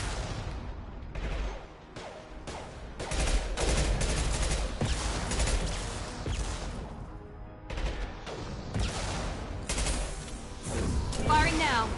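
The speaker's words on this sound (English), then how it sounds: "Firing now." Rapid bursts of gunfire from Mass Effect Legendary Edition, dense and loud throughout with overlapping shots and blasts, a voice talking over the combat.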